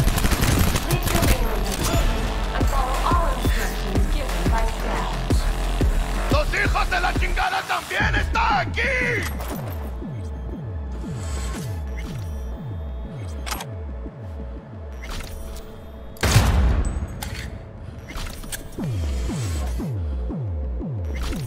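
Gunfire and explosions in the Cyberpunk 2077 video game, with dense rapid shots and bursts at first, then sparser sharp impacts with ringing tails and one louder blast later on, under game voices.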